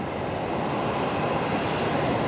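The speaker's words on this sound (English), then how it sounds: "one of those brand new electric tugs that Virgin Australia used" A brand-new electric aircraft tug used by Virgin Australia at Brisbane Airport, heard as a steady, continuous broadband hum of aircraft engine noise that fills the whole stretch without pause.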